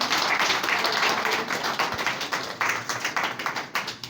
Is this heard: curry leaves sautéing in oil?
no